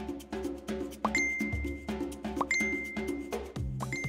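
Notification dings, three bright chimes spaced evenly over a few seconds, each followed by a short sustained tone over a steady rhythmic background.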